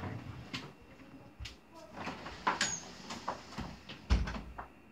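An indoor door is closed, with soft thumps and light handling knocks, and one sharper bump near the end, all fairly faint.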